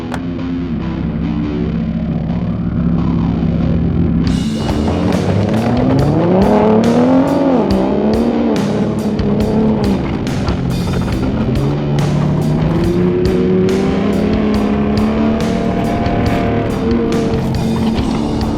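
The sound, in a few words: pickup truck driving up and down road, scope tied behind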